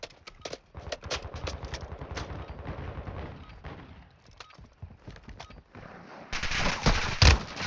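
Gunfire in Call of Duty Warzone 2: bursts of rapid shots and scattered single cracks run throughout, building to a louder, denser volley near the end, with no voices over it.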